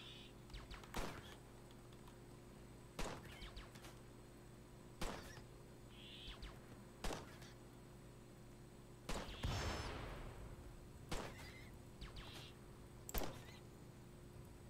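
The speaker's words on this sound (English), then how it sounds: "you need to not be shooting at the wind turbine" Gunfire in the RimWorld video game, sharp isolated shots spaced roughly every two seconds, quiet and distinct against a faint hum.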